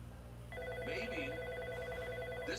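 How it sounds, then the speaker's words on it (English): A telephone ringing steadily with a repeating electronic tone over a low background hum, fairly close and continuous without pause. "Andrew, pick up the phone. Answer the phone."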